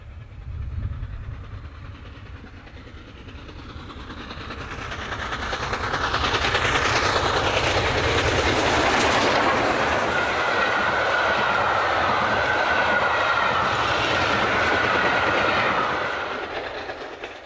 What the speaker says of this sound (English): Here the Pacific heads away from Malton en route for Scarborough.